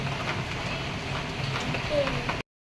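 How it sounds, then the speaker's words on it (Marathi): Heavy early-morning downpour, a steady broad wash of rain falling outdoors, moderately loud and continuous for a couple of seconds before cutting off abruptly, with a voice faintly present. "पाऊस बघा कसला धुवाधार पडतो"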